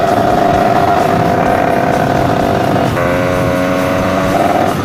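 Derbi moped fitted with an 88cc Stage6 cylinder, its small two-stroke engine revving steadily at high rpm while being ridden, a loud continuous buzz with a slight shift in pitch midway.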